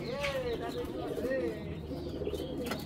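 Pigeons coo softly in rolling, repeated low calls nearby, heard under someone speaking.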